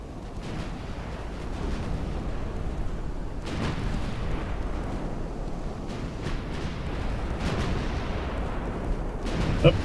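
Naval battle in Ultimate Admiral: Dreadnoughts, where battleship guns fire repeated deep booms and rumbling blasts over a constant, dense roar of combat noise.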